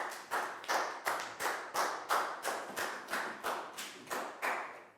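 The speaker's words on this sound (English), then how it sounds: "High five and a big round of applause for Chu, please, guys." A primary-school class gives a rhythmic round of applause during a Year 4 maths lesson, about a dozen sharp, evenly spaced group claps, close and loud.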